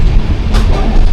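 Jamnagar–Tirunelveli Express arriving at Sangameshwar station, a loud, close rumble of the moving train with a brief rattling burst midway, heard for about a second without voices.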